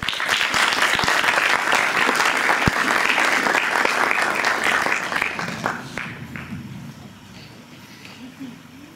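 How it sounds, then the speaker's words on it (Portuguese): Audience applause at a health lecture evening, loud and sustained dense clapping with some voices that gradually thins and fades toward the end. "Eu peço uma salva de palmas para o Christian."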